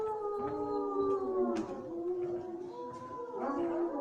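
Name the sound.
children imitating a wolf howl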